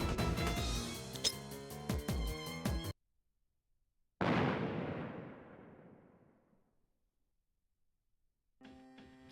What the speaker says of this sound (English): A loud explosion sounded from below.